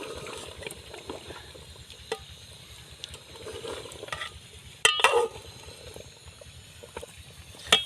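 Food frying in ghee in a pan while being stirred, a low steady sizzle under repeated scraping and clinking of a spoon against metal, with a few louder knocks near the middle and end.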